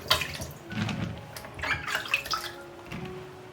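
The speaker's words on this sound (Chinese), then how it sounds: "再用清水过2遍，就洗得很干净了。" Kumquats are rinsed by hand in clean water in a kitchen sink, with splashing and running-water sounds in short irregular bursts, fairly close and moderately quiet.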